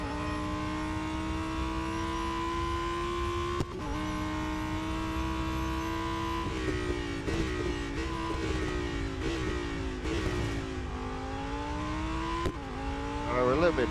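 An Audi R8 LMS GT4 race car in Real Racing 3 runs at high revs, its engine note climbing steadily through the gears with several sharp drops at the shifts, loud and continuous, while a voice talks over it.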